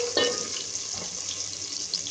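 Chopped onion hits hot ghee for an arvi baingan salan, opening with a brief splashy burst that settles into a steady, close, hissing sizzle.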